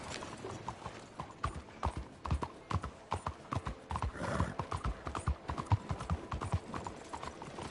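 Horse hooves clip-clop and gallop in a steady, fast rhythm across open ground in the video game Red Dead Redemption 2, fairly close, with a brief whinny and no talk.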